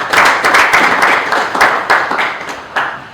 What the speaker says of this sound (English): we want to give her again another round of applause.